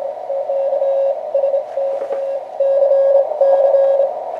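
Ham radio signal heard through an Elecraft AF-1 audio filter on an old receiver: a steady Morse-style tone keyed in long dashes and short gaps over a hiss of band noise, fairly loud with no talking.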